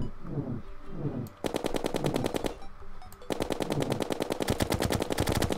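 Rapid-fire gunfire with cursed flame bullets in the video game Terraria comes in two long, fast automatic bursts separated by a short pause, loud and steady.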